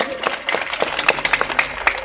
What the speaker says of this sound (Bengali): একটা জোরে জোরে করতালি দিন, জোরে জোরে করতালি দিন